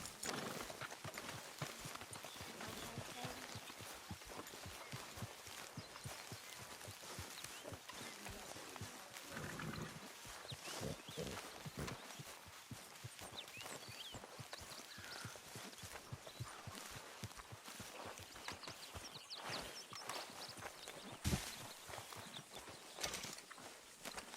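A horse in the video game Red Dead Redemption trots on without a break, its hooves beating a fast, even rhythm close by over a continuous bed of outdoor game ambience.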